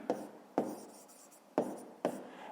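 A pen writes a maths answer on paper in four crisp scratching strokes at an uneven pace, close and quiet, with no voices.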